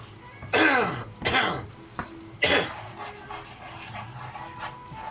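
A few loud, harsh coughs in quick succession up close, followed by quieter background noise.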